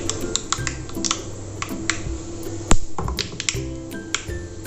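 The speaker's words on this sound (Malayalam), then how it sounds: "നമുക്ക് 1 ടീസ്പൂൺ കടുക് ഇട്ട് കൊടുക്കാം." Mustard seeds sputter and pop in hot oil in a home kitchen, a quick run of sharp crackles and snaps at close range with no voices over them.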